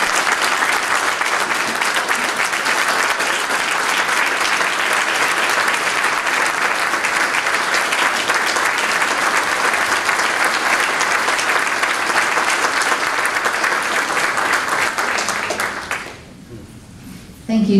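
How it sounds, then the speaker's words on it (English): An audience at a Tea Party gathering in NE Tarrant County claps in loud, sustained applause that holds for about sixteen seconds, then cuts off abruptly. "Let's give this guy a round of applause."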